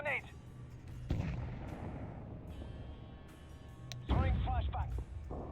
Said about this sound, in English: Live grenade.